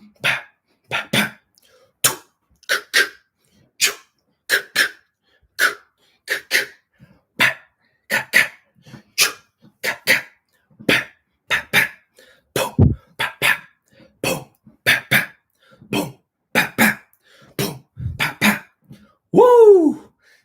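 A voice imitates a popping dance beat with the mouth, making steady rhythmic pops and booms for practice drills, close and loud, with a short vocal sound at the end.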